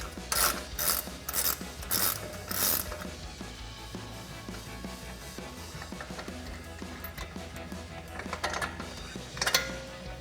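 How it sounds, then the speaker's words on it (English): An 18mm ratcheting wrench backs out a steering stabilizer bolt on a Jeep Wrangler JK, with bursts of quick, crisp ratchet clicks, a few louder spurts early and late, and quieter clicking and metal handling between. "take an 18mm ratcheting wrench and remove it"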